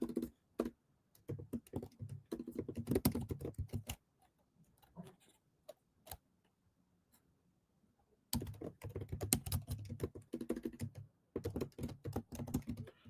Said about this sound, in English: I'm gonna type it first.